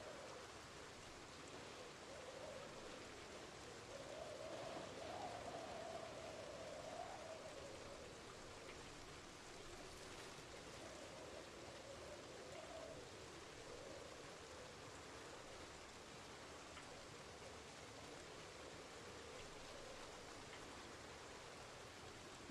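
Steady rain in Project Zomboid hisses evenly and quietly as a soft, continuous wash with no distinct drops and no talking.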